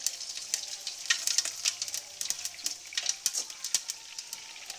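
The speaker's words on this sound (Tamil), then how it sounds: "இந்த பக்கம் ஒரு சட்டி வச்சு எண்ணெய் காஞ்சிருச்சு இதில் கொஞ்சம் வந்து சோம்பு ஆட் பண்ணிக்கிறோம்" Fennel seeds sizzle in hot oil in a pan, giving a close, bright, crackling hiss with quick irregular pops and spits throughout.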